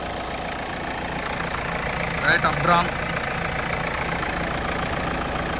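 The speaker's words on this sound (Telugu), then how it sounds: "2014 ఇంజన్ చాలా స్మూత్గా ఉంది." A 2014 Renault Fluence car engine idles with a steady, even hum, while voices talk over it at close range.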